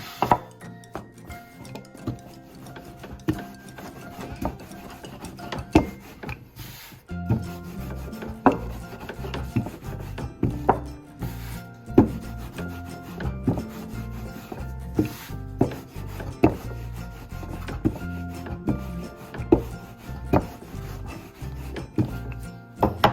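A rolling pin works pizza dough thin on a wooden surface, making repeated rubbing, rumbling strokes with soft knocks, in an uneven rhythm that continues throughout.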